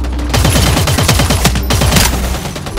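Rapid automatic gunfire from a firefight in Eve Vanguard, loud and close, a dense rattling stream of shots with a few heavier bangs mixed in, and no talking.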